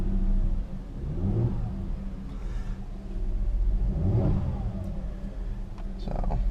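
A Mercedes C350 engine runs with a deep steady rumble and two smooth revs that swell and fade, close by and with no talking.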